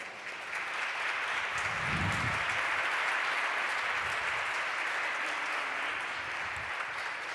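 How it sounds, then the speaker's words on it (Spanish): Sustained audience applause for Minister Muñoz at a seminar on women lawyers' leadership in Chile, a dense steady wash of clapping that stays loud and even for about seven seconds, with no voices over it. "Démosle un fuerte aplauso"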